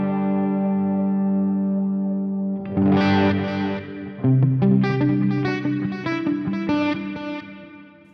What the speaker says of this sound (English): especially with the delays and the reverbs